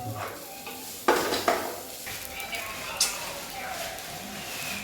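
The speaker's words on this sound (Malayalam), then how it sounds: "നമുക്ക് ഇളക്കാം" Semiya payasam stirred in a pot, with a few scraping clinks of the spoon against the metal over a soft simmering hiss, and a voice speaking at times in the background.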